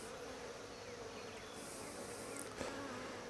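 Dense, steady buzzing of many honey bees in a hive fills the space, close and continuous, with no voices.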